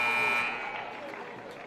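End-of-half buzzer at a girls high school basketball game, a loud sustained electronic tone that fades into crowd noise in a gym, with a commentator speaking.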